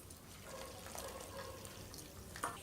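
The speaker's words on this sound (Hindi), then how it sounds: "और इसके बाद हम इसके अंदर डाल देंगे गर्म पानी" Hot water poured into a pot over a sieve while cleaning it, a faint steady trickling pour running throughout, with a small clink near the end.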